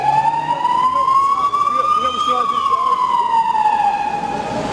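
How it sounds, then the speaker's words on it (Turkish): A fire engine siren wails loudly along a busy Istanbul street in Beyoğlu near Istiklal Avenue, one long rising then falling tone that stays close for several seconds before easing off slightly, with street noise beneath. "Bu itfaiye geri dönüyor."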